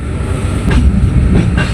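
KA Cikuray train rumbling loudly as it pulls into Pasar Senen station, a heavy low roar with faint clacking, close and without voices.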